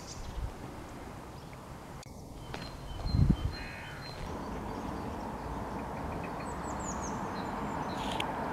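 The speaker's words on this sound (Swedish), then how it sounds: "Man får sällskap av fåglar ibland som ni ser här." Birds call outdoors, with a few faint crow-like caws and short chirps drifting over a steady wash of background noise, some distance from the listener.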